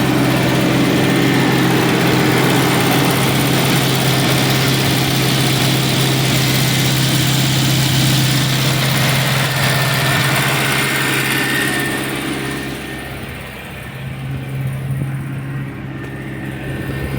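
A Geo Tracker engine idles fast at high RPM, a steady close mechanical drone that holds level before easing off slightly near the end, with no talking.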